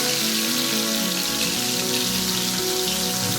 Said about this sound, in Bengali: তেলটা গরম হয়ে গেছে, প্রথমে মাছটা আমি ভেজে নেব।